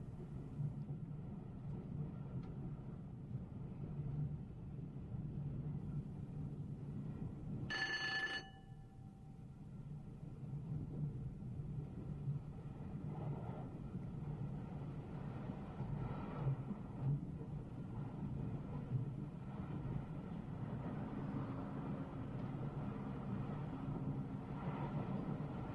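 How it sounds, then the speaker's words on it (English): Steady low electric traction hum and rumble of an electric train pulling away at full power in notch 4, with a brief high ringing tone partway through and continuous steel-rail noise throughout. "our driver starts away selecting notch 4 on the power controller, making full use of the maximum acceleration of the train"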